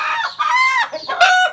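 A mother hen with her chicks clucks loudly and close by, giving three or four drawn-out, throaty calls in quick succession.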